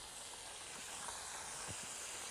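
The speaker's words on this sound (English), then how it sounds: "They're frying real good." Food fries in a pan with a steady, bright sizzling hiss, continuous and fairly close, with a few faint pops underneath.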